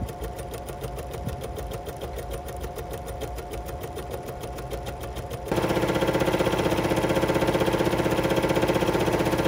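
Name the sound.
Bernina sewing machine stitching with clear embroidery foot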